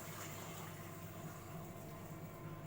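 Water is poured into the base of a Thai sticky rice steamer pot, a quiet continuous rushing fill heard up close with no talking.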